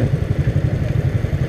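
A Honda CB Twister motorcycle engine runs loud and close, a dense rhythmic low-pitched throb pulsing steadily without pause.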